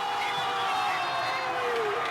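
Paraguayan football fans at a stadium during a match broadcast make a dense, steady crowd roar that holds at an even level from start to finish, with no single voice standing out.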